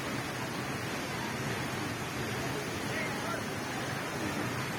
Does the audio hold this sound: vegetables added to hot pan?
no